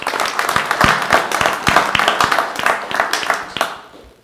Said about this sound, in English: So I'd like to give them all a big round of